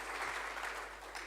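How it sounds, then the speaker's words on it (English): An audience at a water utility's stakeholder session applauding, a brief and distant patter of clapping that stays faint throughout. "Can we just give a round of applause for what has happened?"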